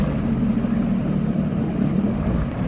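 A small boat's outboard motor, freshly reassembled, runs on the water with a steady, loud, low droning hum that holds constant throughout, with no voices over it.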